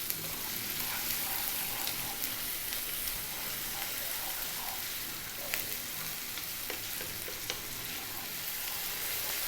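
Garlic ginger paste frying over high heat in a pan, a steady close sizzle with crackling pops and scraping from being stirred, and no voices.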